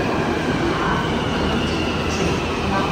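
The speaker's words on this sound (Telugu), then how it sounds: "ఇదిగోండి మనం వెళ్ళాల్సిన మెట్రో అయితే వచ్చింది చూడండి" A Hyderabad metro train pulls into the station, its cars rolling past with a loud, steady rumble and faint wheel hiss throughout. No one speaks.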